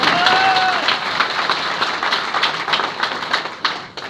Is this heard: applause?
yes